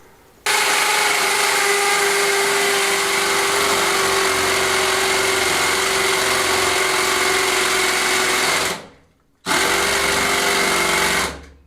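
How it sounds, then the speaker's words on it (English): A loud power drill whines steadily for several seconds while drilling a hole through a wall, stops briefly, then starts up again. "drill a hole through there, get a big shifter out and make a bigger hole through the wall"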